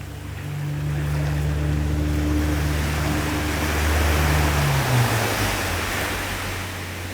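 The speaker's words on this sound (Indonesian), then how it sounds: "suara mesin speedboat yang akan menjemput kitong mulai terdengar" A speedboat engine drones steadily nearby off Liki Island, Papua, its pitch shifting as it approaches and passes, over wind and the wash of water.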